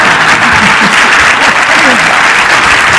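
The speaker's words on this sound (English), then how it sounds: "He definitely needs 50 years worth of applause." An award ceremony audience for a 1975 school class gives loud, sustained applause, a thick roar of many hands clapping close by, with a few voices cheering and calling out through it.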